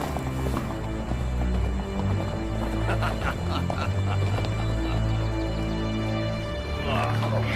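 Horse hooves clip-clop steadily beneath loud music and voices in a western film, with a faint whinny-like sound near the end.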